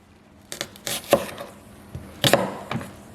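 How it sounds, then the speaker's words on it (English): A kitchen knife slicing lengthwise slits into an onion on a cutting board, a handful of quick, crisp cuts and taps in an uneven rhythm, close and fairly quiet. "pretty much to dice an onion, all you want to do is put slits all the way down"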